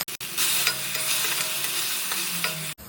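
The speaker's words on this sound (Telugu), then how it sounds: "ఉల్లిపాయ బాగా వేగిందండి." Sliced onions and curry leaves fry in hot oil in a pan for a Telugu fish egg masala curry, giving a loud, steady, close sizzle that runs almost unbroken, with brief stirring scrapes and no talk.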